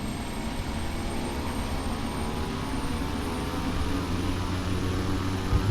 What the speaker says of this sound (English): And we have reversing props.